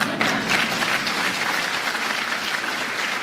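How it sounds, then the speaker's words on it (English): A crowd at a political speech breaks into steady, sustained applause, a dense wash of clapping with no talk over it. "Wait for applause, Joe"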